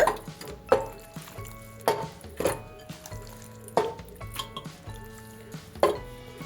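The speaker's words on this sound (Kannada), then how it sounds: "ತುಪ್ಪ ಬಿಸಿ ಆದ ನಂತರ ಮಟನ್ ಪೀಸಸ್ಗಳನ್ನು ಹಾಕೊಳ್ಳೋಣ" Mutton pieces go into hot ghee in a pressure cooker, giving a series of wet sizzling thuds and squishy drops roughly every second, with faint metallic clinks from the pot, close and moderately loud.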